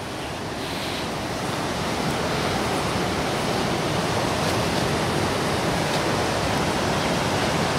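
A stream flowing under a bridge near a village road, a steady loud rushing of water that fills the whole clip with constant broadband noise.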